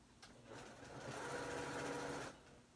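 A sewing machine stitches the sleeve of a T-shirt dress in one steady, close run of about two seconds, a fast whirring motor that starts, holds and stops cleanly.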